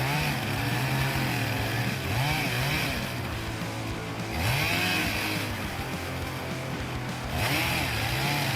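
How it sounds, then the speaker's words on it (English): Chainsaw cutting into the base of a tree trunk while logging, its engine whining steadily and revving up and down in repeated surges, loud and close with no talk. "As the chainsaw operates, the operator maintains a steady stance, positioning the blade at the base of the tree at the right angle."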